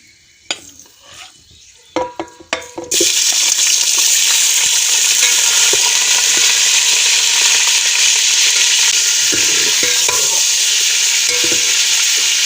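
Meat for degi-style aalu gosht drops into hot oil infused with cloves. A few clinks come first, then a loud, continuous close sizzle of frying with stirring runs steadily underneath.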